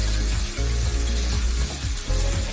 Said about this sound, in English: And give it a good stir again.